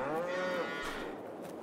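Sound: cows mooing in cow barn, farming video game

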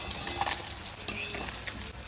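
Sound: fish frying in oil on a tawa

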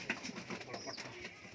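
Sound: spotted kalsira pigeons cooing

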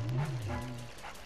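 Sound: dog barking in Luigi's Mansion video game

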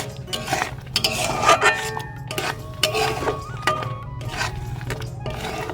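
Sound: stirring ghee into palm fruit sweet mixture in a pan

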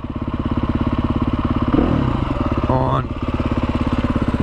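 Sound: Husqvarna TE310R motorcycle engine running

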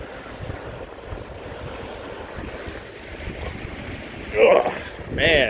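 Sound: water rushing from a culvert into a canal

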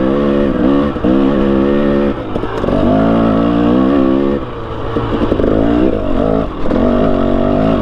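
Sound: 300cc two-stroke dirt bike engine revving uphill

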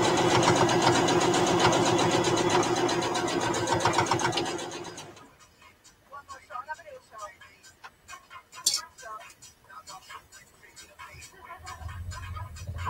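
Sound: sewing machine stitching corners of a small purse

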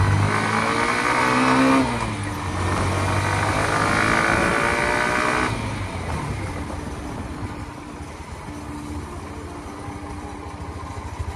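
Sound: Hero Xtreme 125R motorcycle engine accelerating

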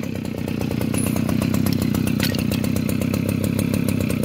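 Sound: Shibaura lawn mower engine running

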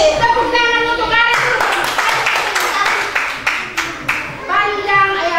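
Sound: clapping

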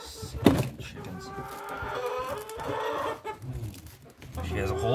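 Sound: chickens clucking

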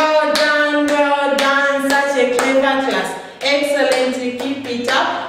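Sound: children clapping for themselves

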